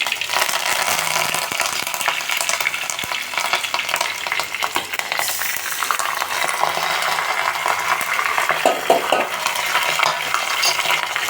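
Cumin, mustard seeds and curry leaves sizzle and crackle in hot oil, a continuous loud frying hiss with scattered pops and light stirring scrapes, close and without speech.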